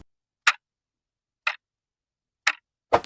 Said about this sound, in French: de toujours entendre ce bruit, on devrait dire cette musique qui fait tic-tac, tic-tac, tic